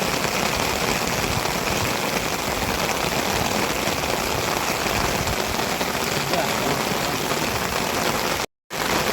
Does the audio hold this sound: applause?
no